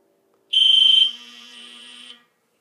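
A fire alarm panel set into drill mode sounds a loud electronic alarm tone, a steady shrill pulsing beep for about half a second that then drops to a softer continuous tone before cutting off, heard alone.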